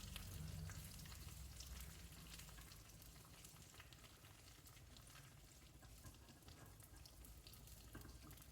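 Cashews frying in ghee in a pan for caramel palada payasam, a dense continuous sizzle and bubbling hiss, steady and close, with faint stirring and no voices.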